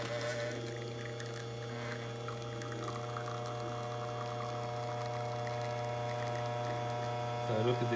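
A Rocket Mozzafiato espresso machine pulls a shot at zero pre-infusion, its pump giving a steady, close electric hum with a faint liquid trickle for the whole stretch and a slight rise at the very end.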